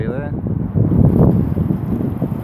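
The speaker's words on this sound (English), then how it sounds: "See how windy it is." Steady, heavy coastal wind at Port Solent buffets the microphone with a constant low roar, gusting slightly stronger midway, with no clear pauses, by a seawall with high seas.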